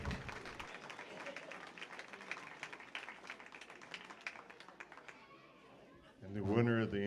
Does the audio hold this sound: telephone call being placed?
no